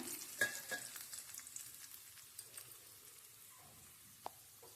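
Two dried red chillies go into hot oil for a tempering, producing a soft, quiet sizzle with a few sharp crackles and clicks near the start and a small pop later on.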